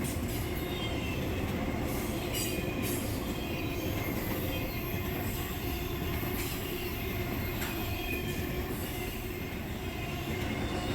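A freight train rolls past on the rails with a continuous rumble, wheel squeals and intermittent clicking joints, steady and fairly near, with no voices.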